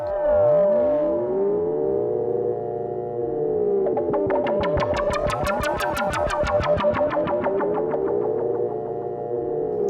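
An AE Modular synth with two LFOs running through a 2VCA module produces a swooping, siren-like electronic tone whose sweeping pitch patterns swell into a bright, pulsing wash midway, loud and continuous.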